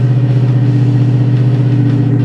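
A 1965 Ford Mustang Convertible with a 4-speed runs steadily on a chilly morning, its engine giving a strong, even low rumble at close range with no clear rise in pitch.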